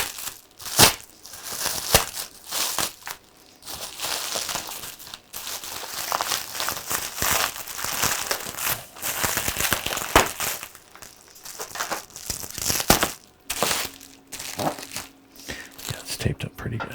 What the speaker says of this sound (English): Let me just cut part of this bubble wrap off.